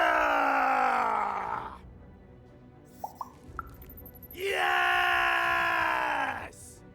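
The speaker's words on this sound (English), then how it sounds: "We need to scream so that our enemies know that we're here!" Two long, loud screamed battle cries from characters in Lost In Random, separated by a quieter gap with a few short clicks, each yell sustained for about two seconds.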